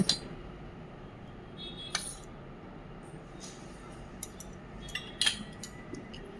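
A utensil mixes ghee and cornflour in a bowl with sparse, light clinks and taps against the dish over a quiet background, with a few sharper knocks spaced irregularly.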